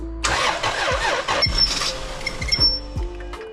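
A car's 2JZ engine cranks with a rapid churning starter whir on a low battery, then catches and settles into a rough, uneven idle nearby.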